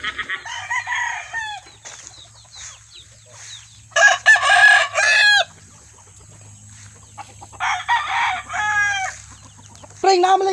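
Roosters crow loudly and close on a farm, three long drawn-out calls separated by quieter clucking and scattered fowl noise, with a faint low hum underneath.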